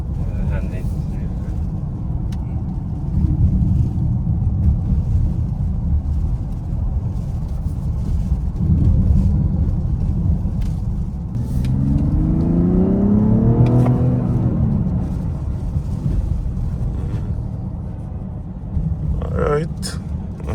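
Mazda car engine accelerating on a drive, a steady engine drone and road roar heard from inside the cabin, with a rising rev sweep midway, while people talk over it.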